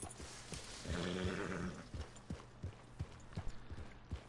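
A horse in Red Dead Redemption 2 gives a drawn-out whinny, fairly faint, over the soft, rhythmic clip-clop of hooves that keeps going after the call ends.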